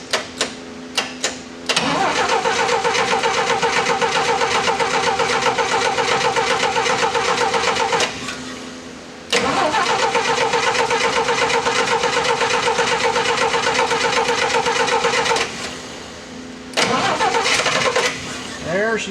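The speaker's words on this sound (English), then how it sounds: "There, she's starting to go." A small engine, choke on, sputters through a few failed cranks, then catches and runs loud and steady, dips briefly, picks up again, and stumbles near the end.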